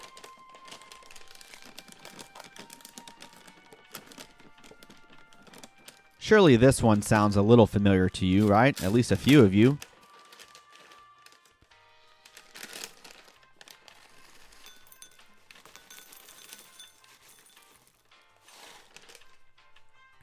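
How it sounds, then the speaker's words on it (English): A cereal box is opened and cereal is poured into a bowl, with faint crinkling rustles and light patter before and after a short stretch of talk. "It's someone opening a box of cereal and pouring cereal into a bowl."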